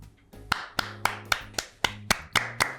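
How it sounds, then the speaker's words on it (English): A single person clapping hands about ten times in an even, steady rhythm, each clap sharp and close, alone with a faint hum underneath. "Why are we clapping?"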